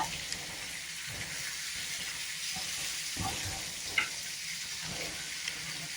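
Tandoori chicken sizzles in a pan over a full flame, with a constant hissing fry close by and occasional louder taps and scrapes as the pieces are turned.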